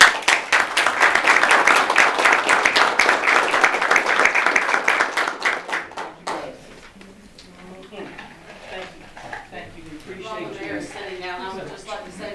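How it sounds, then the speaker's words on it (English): Applause breaks out at a town council meeting, a dense round of many hands clapping for about six seconds before fading into quieter room noise and murmured talk. "I'd appreciate it if we had a round of applause"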